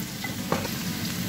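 Mushrooms frying in a little hot vegetable oil in a pan, giving a steady, close sizzle throughout with a brief stir or shift of the pan midway.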